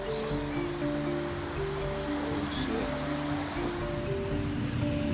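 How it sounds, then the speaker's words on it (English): Floodwater pours down a sloping city street in a constant broad, loud roar of rushing water, with steady tonal music layered over it throughout. "the power of the flooding water."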